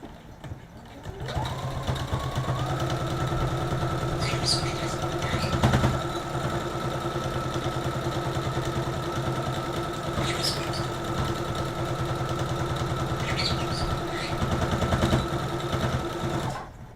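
A sewing machine stitches elastic into a dress waistband with vertical stitches, running in a steady, fast mechanical whir that starts up, holds for a long stretch with slight speed changes, and stops near the end.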